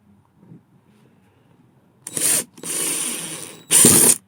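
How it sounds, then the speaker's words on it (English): A power drill drives a 2-inch screw into layered wood in three close bursts of whirring. The middle burst is the longest and the last is the loudest, after a quiet lead-in. "That means the drill is going to the 3rd layer of the wood."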